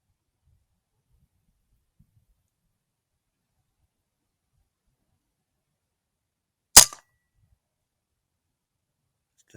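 A single sharp air rifle shot cracks once during pest shooting, isolated in otherwise near silence.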